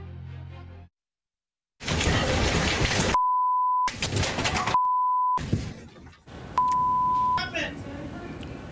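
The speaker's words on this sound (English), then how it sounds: "Will we hear another beep?" Three sustained electronic beeps sound, each a steady pure tone lasting about half a second to a second. They sit between loud bursts of noisy, rain-like rumble, and a short silent gap comes near the start.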